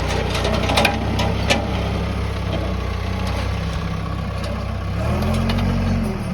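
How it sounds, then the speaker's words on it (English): A farm tractor labours to pull fence posts out of pasture ground, its diesel engine idling steadily with low rumble, then shifting pitch and load near the end; no talking. "he's trying to pull those posts out of the ground with that tractor"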